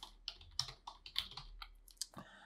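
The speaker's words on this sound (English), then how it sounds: "So I'm gonna type in my email." Rapid keystrokes on a computer keyboard while entering an email address, a quick irregular run of close, crisp clicks with short pauses and a slightly heavier tap near the end, no voices.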